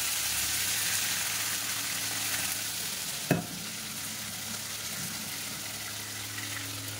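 Nigella seeds and prawns frying in hot oil, a steady broadband sizzle with stirring, one sharp clack of a spoon against the pan midway, no voices.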